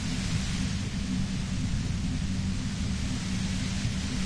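Steady broadband radio static hisses from a radio in the Disco Elysium video game, a dense unbroken wash with a heavier low rumble underneath, loud and continuous with no voices.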